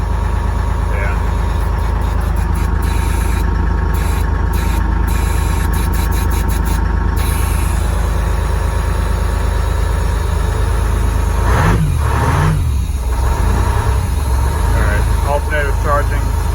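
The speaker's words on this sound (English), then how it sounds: "we'll let it run for a second. Then we'll blip the throttle" An International fire truck's Detroit Diesel engine idles loud and close with a heavy, steady rumble, then gets a couple of throttle blips near the end as a voice talks over it.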